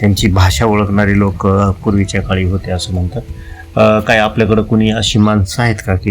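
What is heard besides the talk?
No everyday noise stands out behind the speech.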